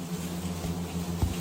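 A wasp drones in a steady, low buzz close to the microphone, holding a constant tone with a slight thump near the end and no talking.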